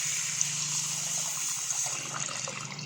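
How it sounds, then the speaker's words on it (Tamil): Strained tamarind water poured into a pan of anchovy fish curry, a steady liquid splash and trickle running the whole time, fairly close and moderately loud, with no talking. "புளியை நான் நல்லா கரைச்சி வடிகட்டி வச்சுருக்கேன். இப்போது அதையும் நான் இது கூட சேர்த்துக்கிறேன்."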